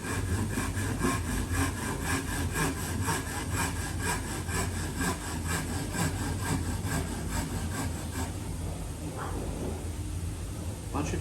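A hand saw cuts timber for a dovetail joint in a carpentry workshop, with steady, close, rhythmic back-and-forth strokes running throughout and a voice briefly talking over the sawing.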